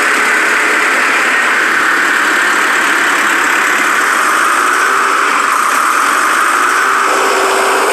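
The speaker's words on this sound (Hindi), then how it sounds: "और एक वर्कर तैयार ट्रैक्टर को रोड टेस्ट के लिए ले जाता है।" A newly assembled tractor's engine runs steadily for a road test, a loud continuous idle with a constant mechanical hum and tonal whine and no pauses.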